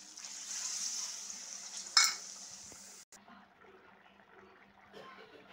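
Water poured into a pan of frying meat and potatoes gives a sudden burst of sizzle and splash, which then settles into quieter bubbling and soft stirring.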